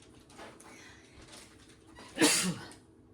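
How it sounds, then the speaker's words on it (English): A single sharp sneeze bursts out close by after a few quiet seconds of soft background noise. "Excuse me, had to sneeze."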